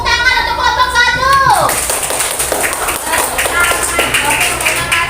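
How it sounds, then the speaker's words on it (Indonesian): Schoolchildren in a classroom clap for a group of classmates, a busy patter of hands mixed with loud children's voices and a rising whistle-like tone at the start. "kita kasih tepuk tangan untuk kelompok 1"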